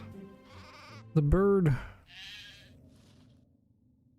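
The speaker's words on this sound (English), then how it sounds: "we've got a fur sheep now" A fur sheep in a video game lets out one loud, wavering bleat, with softer animal sounds around it and someone talking briefly under the game audio.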